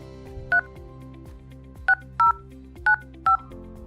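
A telephone keypad dials an access code into an automated voice-response line as five short, loud DTMF beeps in an uneven rhythm, set against soft background music.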